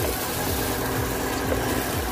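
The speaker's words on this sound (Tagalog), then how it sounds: "Tapos ito lalagyan na natin siya ng water." Water pours steadily into a cooking pot holding tomatoes, a continuous gushing fill sound that is close and fairly loud, with no talking.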